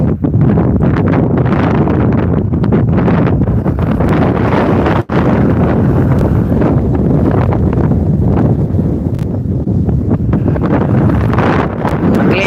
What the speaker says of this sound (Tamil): பயங்கர காத்தடிக்குது